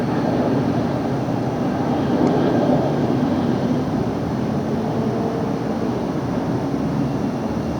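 Continuous low rumbling roar of an airliner coming in to land at LAX, heard from a nearby hotel, steady and fairly loud throughout without distinct peaks.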